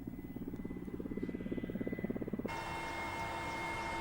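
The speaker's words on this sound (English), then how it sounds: "We flew there in a warlord's helicopter." A helicopter's rotor throbs in a rapid, steady pulse that grows a little louder, then shifts abruptly into a smoother, even engine drone heard from inside the warlord's aircraft on a flight to Balkh in northern Afghanistan.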